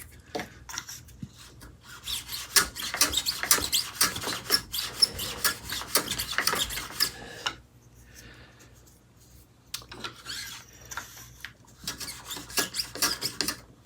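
A Veritas miniature shooting plane shaves thin curls from mahogany in a quick series of rasping, scratchy strokes, a pause, then another burst of strokes, close and fairly quiet.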